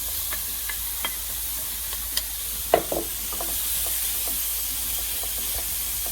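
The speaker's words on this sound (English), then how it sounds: "As soon as I get this ground beef broken up here, I'm going to throw the onions right in with it." Ground beef browns in a pan with a steady, soft sizzle, broken by a few light scrapes and clicks of a utensil breaking up the meat; no talking.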